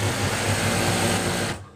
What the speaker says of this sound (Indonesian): kemudian kita tinggal menjahitnya